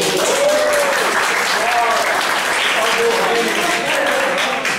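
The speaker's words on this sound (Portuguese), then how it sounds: "Palmas para o Édipo!" Audience applause breaks out at a games day lecture on the hero in mythology and games, a loud, continuous wash of clapping from a crowd while a voice keeps talking through it.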